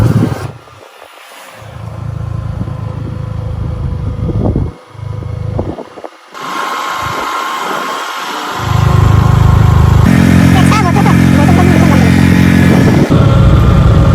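A motorcycle engine runs close by, idling with a rough low rumble, then revving up into a loud sustained roar for the last several seconds, with wind and handling noise.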